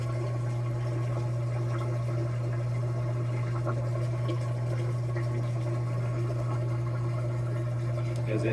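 A Samsung washing machine drains water during its rinse cycle, giving a steady, continuous pump hum with gurgling water flow, fairly close and unchanging throughout.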